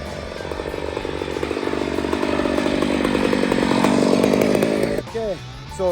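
A chainsaw bucks firewood, its loud two-stroke engine snarling steadily under load and rising slightly as the cut progresses, then dropping off near the end as a voice speaks briefly.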